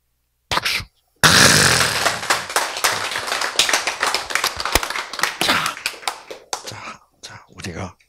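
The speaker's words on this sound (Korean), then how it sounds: "박수." A Bible lecture audience breaks into applause, a short clap, a pause, then a burst of clapping with rhythmic, fairly close individual claps that gradually thin to a few scattered ones.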